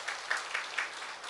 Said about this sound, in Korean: 발표에 수고해 주신 조철민 박사님께 다시 한번 큰 박수 부탁드리겠습니다